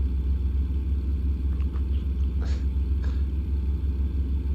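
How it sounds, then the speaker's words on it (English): A truck engine in American Truck Simulator over-revs with a steady, loud, droning rumble that holds throughout, a few faint higher tones flickering above it, no voices. "25 is over revving and you're damaging the engine."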